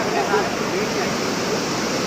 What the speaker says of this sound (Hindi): देखो देखो ऐसा आ रहा है पानी